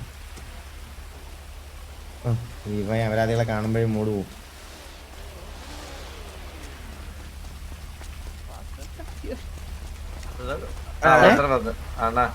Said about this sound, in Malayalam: പ്രകൃതിയുടെ സൂചന, മഴ